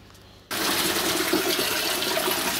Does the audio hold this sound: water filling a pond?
yes